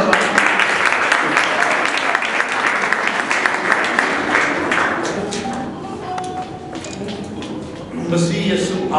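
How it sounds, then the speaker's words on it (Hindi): A worship congregation claps vigorously together, a dense roomful of hands with voices mingled in, easing briefly before swelling again near the close. "जोरदार तालियां।"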